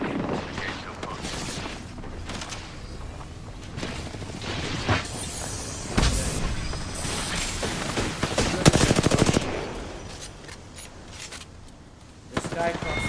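Bursts of video game gunfire, including rapid machine-gun fire and single shots, ring out in Genshin Impact over a busy, loud mix of effects and music, with a voice talking throughout.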